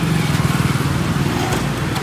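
A Royal Enfield Meteor 350 motorcycle engine throbs with a steady low thumping idle-like pulse during a wheelie attempt, fairly close and moderately loud with some background hiss.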